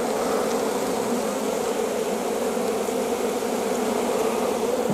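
Honey bees buzz steadily around an open hive during a brood inspection, a dense continuous drone of many wings close by with no talking.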